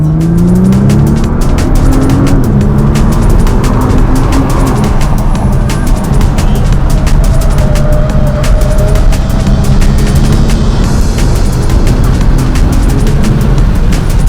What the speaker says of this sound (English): The GTR definitely didn't feel as nimble as the last two, but it was certainly fast